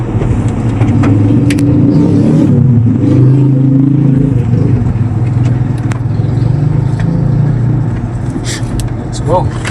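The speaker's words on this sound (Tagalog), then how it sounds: "May sasakyan." A car passes close by on a road, its steady engine rumble loud and continuous for several seconds before easing slightly, with people talking nearby.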